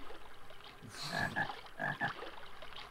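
A frog croaks twice in the video game Seaman, each time as a pair of quick, bright, chirpy croaks. The sound is faint and sits alone against quiet background hiss.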